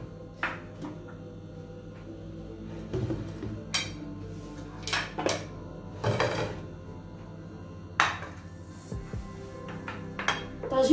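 A clay tagine pot for Moroccan meat and peas is lifted out and handled in a kitchen, with scattered clinks and knocks of pottery and utensils, fairly close and moderately quiet.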